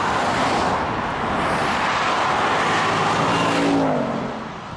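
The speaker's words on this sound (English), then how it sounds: "I'm doing 120 kilometers per hour and the car is doing 2000 RPMs in 10th gear." A Ford Mustang GT cruises on a highway at about 120 km/h, holding 2000 rpm in tenth gear, giving a steady, loud interior drone of engine and road noise that eases slightly toward the end.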